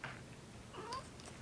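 A cat gives a couple of faint, short meows close by in a quiet room.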